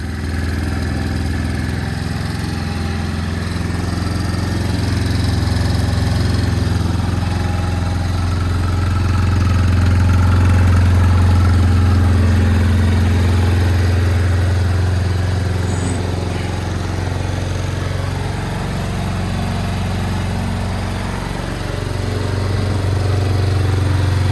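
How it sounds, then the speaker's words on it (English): The engine of a 2008 Yamaha Grizzly 350 ATV with a freshly cleaned carburetor idles on choke, steady and loud nearby, a continuous low rumbling chug with slight swells in level, no voices. "Dude, it fires right up, I'm telling you."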